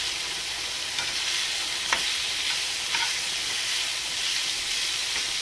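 A spoon stirs the cabbage roll mixture in a hot pan over a continuous loud sizzle, with a few soft scraping strokes at a slow pace. The sound is close and has no talking.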